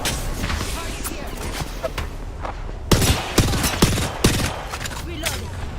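Gunfire rings out in a Fortnite match: scattered shots over steady game noise, then a run of loud, sharp cracks spaced about half a second apart. Game voice lines are mixed in.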